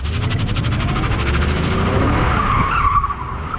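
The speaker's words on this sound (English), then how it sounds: "it's easy to do a donut. I just give it the gas." Tires skid and squeal continuously as a BMW E34 530i drift car spins a tight donut, engine roaring underneath, loud and close throughout.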